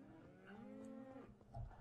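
A cow lets out one drawn-out, low moo in Minecraft, fairly quiet and close, sliding slightly in pitch before fading, followed by a brief soft thump.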